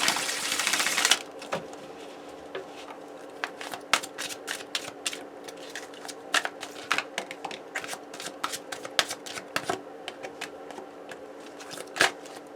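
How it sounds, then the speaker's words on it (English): Tarot cards are shuffled continuously for about twelve seconds, producing a close, crisp run of rapid riffling snaps and soft flicks, with a brief louder burst of riffling at the very start and no talking. "I keep shuffling off screen."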